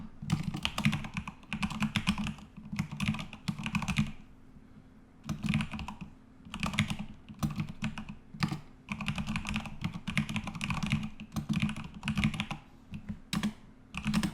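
Rapid keystrokes on a computer keyboard entering commands, close and crisp, in bursts of typing separated by short pauses.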